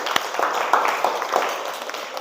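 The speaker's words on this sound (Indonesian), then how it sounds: "Jadi itu saya kasih tepuk tangan untuk kita semua." A class gives a short round of applause, with a few scattered, uneven claps heard over a steady hiss, fairly close and moderately loud.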